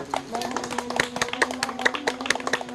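A small group of young schoolchildren and monks claps together during a forest ecology class, scattered hand claps overlapping in an uneven patter, moderately close, with some voices in the background.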